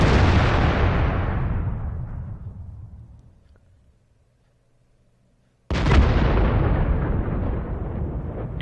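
Tank shell impact explosion in a tank video game, a heavy booming blast that rolls off and fades into near silence, followed by a second loud boom with a long decaying rumble.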